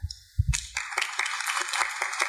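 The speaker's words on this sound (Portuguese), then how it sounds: "Aplauso." A seated audience claps at the close of an academic research discussion session. Applause starts after a brief pause and continues as dense, fairly close clapping for about two seconds.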